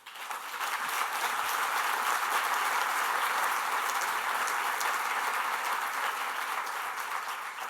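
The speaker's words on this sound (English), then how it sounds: "Thank you for the applause" Steady, full audience applause after a speech on the future of conservation and national parks, a broad wash of many hands clapping that holds evenly for several seconds without talk.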